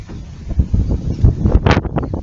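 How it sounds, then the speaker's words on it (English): Wind on a gusty day buffets the microphone with loud, low rumbling gusts that swell and drop, dominating the whole stretch. "It is so windy today."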